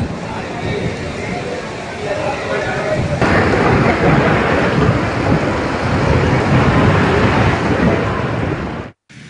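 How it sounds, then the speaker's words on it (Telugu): Heavy rain pours in Vizianagaram district, Andhra Pradesh, under a thunderstorm, a dense, loud and continuous roar of downpour with rumbling underneath, heard without talk. "ఏజెన్సీలో నిన్న రాత్రి నుంచి భారీ వర్షాలు కురుస్తుండగా మైదాన ప్రాంతంలో ఉదయం నుంచి వర్షం పడుతోంది."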